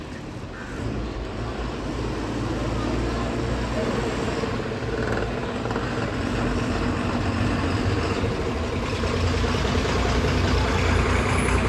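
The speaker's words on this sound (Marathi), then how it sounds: "आपल्या सजवलेल्या लालपरीचं आता आगमन होणारा" A decorated red MSRTC state transport bus arriving with its engine running, a loud steady diesel rumble building slightly as it nears, with voices in the background.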